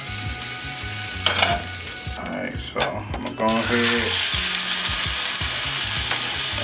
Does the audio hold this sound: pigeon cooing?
no